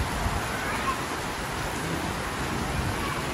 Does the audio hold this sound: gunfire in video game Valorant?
no